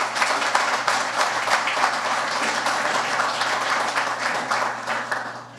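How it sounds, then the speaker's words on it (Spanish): Audience applause at a historical lecture on Duarte, a dense steady wash of clapping held at even strength for several seconds before easing off at the end. "Y por eso yo pido un gran aplauso"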